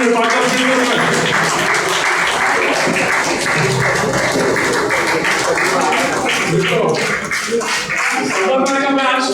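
A large audience at a community program claps loudly and continuously, a dense sustained burst of applause filling the room.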